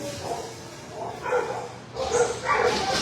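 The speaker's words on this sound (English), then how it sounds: "and now the dogs are howling" Several shelter dogs howl and bark together after a passing siren, a muffled, overlapping chorus of moderate loudness that rises and swells toward the end.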